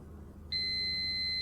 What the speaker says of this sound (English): I get an alarm sound